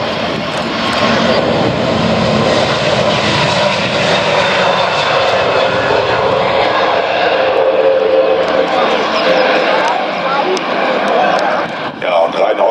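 Airbus A320neo airliner engines at an air show, a loud steady broadband roar that holds for the whole stretch with crowd talk and voices underneath.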